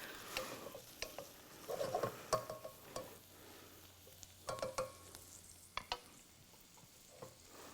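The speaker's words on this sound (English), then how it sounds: "Get that saute here for a little bit." Green curry ingredients sauté in a pan, with soft sizzling, scattered spoon stirs and light clinks, close but quiet, no talking.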